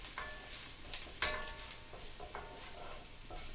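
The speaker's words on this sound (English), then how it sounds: "Let's get that blooming in the pan." Powdered spice blooming in hot oil in a pan for a vegetable curry, a soft steady sizzle with a few light scrapes and clicks of stirring, fairly quiet and close, no talking.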